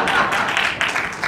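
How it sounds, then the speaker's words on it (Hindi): Audience at a Sunil Pal comedy show during the Dada Saheb Phalke Awards 2020 breaks into steady applause and clapping, a dense continuous wash of hands with crowd noise throughout the short burst. "जोरदार तालियां"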